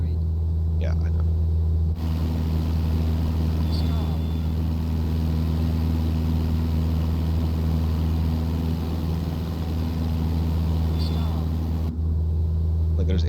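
Cessna 172 engine in Microsoft Flight Simulator, struggling to climb on a mountain pass: a steady, loud, even propeller-engine drone with a low hum that runs unbroken throughout.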